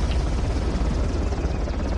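A helicopter in the video game Uncharted gives a dense, low, continuous rotor rumble, steady and fairly loud throughout with no talk.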